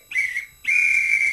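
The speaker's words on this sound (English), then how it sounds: "That's a pathetic blow on the whistle." The tournament director at a 2006 football and poker legends event blows a referee's whistle twice: a short shrill toot, then a longer sustained blast, loud and close with no voices.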